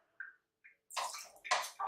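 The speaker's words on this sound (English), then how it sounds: "I'm just going to put some water all over my face" Water is splashed onto a face by hand during a skincare routine, giving several short wet splashing bursts with pauses between them, close by, after a couple of faint trickles.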